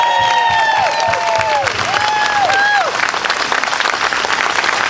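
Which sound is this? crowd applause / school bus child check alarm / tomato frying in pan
crowd applause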